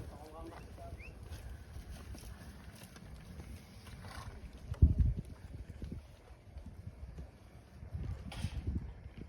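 Horse hooves clip-clop in a loose, irregular rhythm at close range, with voices talking throughout and a louder thump partway through.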